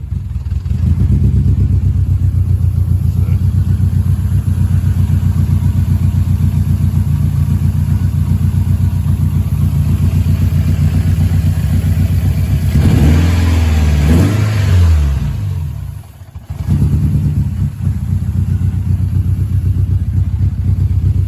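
A Canta LX kit car with a typical Mazda engine idles steadily and loudly up close after the key is turned, with a rev and some clatter later on, a brief dip, then the idle carrying on.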